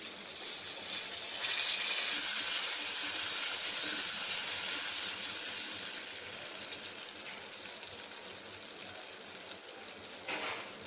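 A cup of water hits a hot pan of roasted dry fruits, setting off a loud, steady rush of steam and hiss that slowly fades to a softer sizzle, with no voices.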